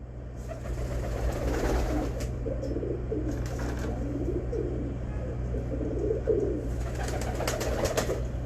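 Pigeon with a silver ring cooing in soft, low, repeated murmurs over a steady mechanical hum, faint and close, with no talking.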